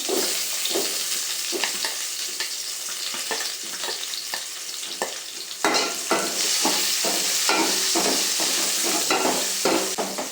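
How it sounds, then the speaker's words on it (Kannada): Onions fry with a steady sizzle while a spoon stirs them in a pan as the base for an okra gravy, with repeated scraping strokes over the continuous crackle and no talk. "ಸೊ ಈಗ ಇದಕ್ಕೆ ಈರುಳ್ಳಿ ಆ್ಯಡ್ ಮಾಡ್ಕೊತಿದ್ದೀನಿ"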